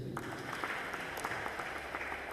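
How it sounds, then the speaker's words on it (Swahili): Congregation clapping during an ordination service at ACK All Souls Cathedral in Machakos, fairly faint but continuous applause from many people in a reverberant hall. "Patie Yesu makofi"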